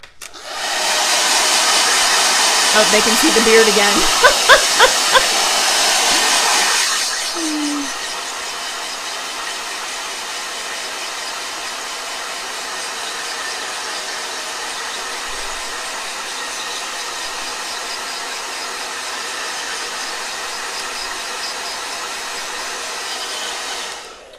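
A blow dryer roars steadily over a wet watercolor painting, loud and unbroken for about seven seconds before cutting off, leaving quiet room tone; a brief voice speaks near the end of the blowing.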